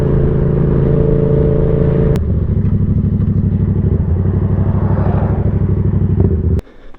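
A motorcycle engine runs close by at a steady idle, then shifts into a choppier, rising rumble as it pulls off, ending abruptly near the close.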